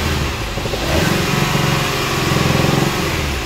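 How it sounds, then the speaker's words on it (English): A 2013 Kia Optima with a GDI engine rises from idle into a sustained rev with a steady mid-pitched hum, recorded up close and loud with no voices. "Okay, rev it up."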